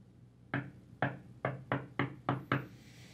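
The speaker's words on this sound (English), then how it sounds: "So, knock my door." Seven sharp knocks rap on a door in a quick, slightly uneven rhythm, close and clear against a quiet background with no talking.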